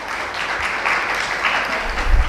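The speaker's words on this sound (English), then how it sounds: "Round of applause requested for Amrita Sarkarji." An audience at a medical conference session applauds steadily for about two seconds, a dense, even patter of many hands that swells slightly near the end.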